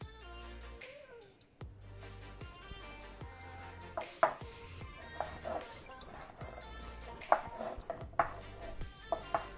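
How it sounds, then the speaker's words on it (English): A knife chops chicken breast finely on a cutting board, quick irregular taps building into louder, sharper knocks, close and clear with no talking. "We're gonna chop these up very,"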